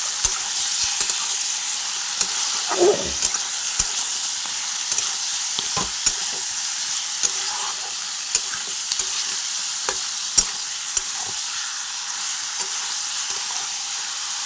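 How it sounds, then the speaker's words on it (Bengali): Pieces of meat, including neck cuts, fry in a pan with a loud steady sizzle, punctuated by intermittent scraping stirs and clicks of a utensil, close and without talk. "চলো এটা ভালো করে ভেজে নেওয়া হোক"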